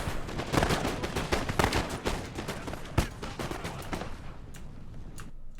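Musket volleys from Russian lifeguard infantry in a Napoleon Total War battle, a rapid ragged crackle of many shots rolling in dense bursts, with one sharper crack standing out before the firing thins and fades.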